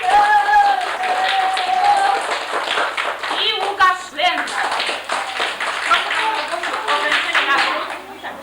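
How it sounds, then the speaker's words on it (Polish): An audience in a television studio claps steadily for several seconds, dense and fairly close, while a man announces names over the applause. "brawa duże dla Joasi"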